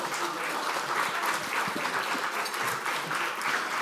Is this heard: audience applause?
yes